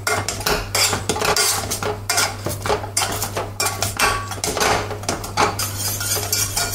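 Banana pieces mashed with cream and sugar in a bowl, a utensil scraping and clinking against the dish in steady repeated strokes over a constant low hum, close and fairly loud.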